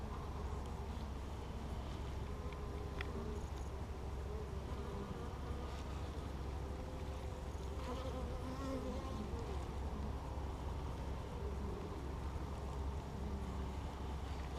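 Honey bees buzz in a continuous, soft drone during a March hive inspection outdoors, with light wind noise and no clear talk.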